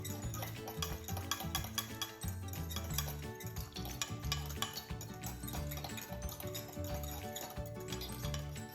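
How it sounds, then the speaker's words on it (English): A spoon stirs a stock cube steadily into a pot of boiling water, with light clinking and a continuous bubbling, sizzling background, close and fairly loud throughout. "Stir your stock cube into your boiling water until it's dissolved."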